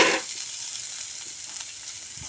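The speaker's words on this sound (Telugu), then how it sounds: "ఇందులో కొంచెం జీలకర్ర, అల్లం ముక్కలు వేసుకుని" Chilies, cumin and ginger pieces sizzle in hot oil in a pan for ginger chutney: a steady, faint crackle with louder hissing bursts at the very start and end.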